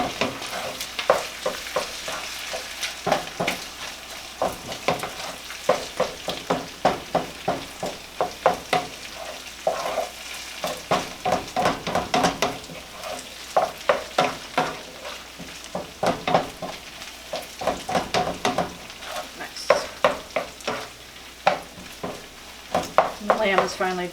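Ground lamb browning in a pan for an Irish shepherd's pie, with a continuous sizzle under repeated rhythmic scraping and stirring strokes of a utensil that keep going for the whole stretch, close and fairly loud.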